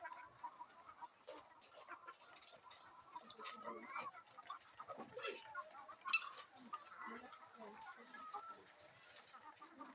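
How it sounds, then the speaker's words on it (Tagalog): Chickens cluck and murmur in a steady, busy flock, soft scattered calls overlapping, with faint voices and a sharper squawk partway through. "yung mga manok namin"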